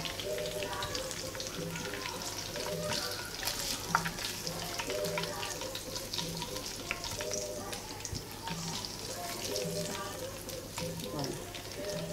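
Beef sizzles and crackles steadily in hot oil in a pan while a tomato-sauce beef stew is made, a continuous close frying hiss with small pops and faint background kitchen noise throughout.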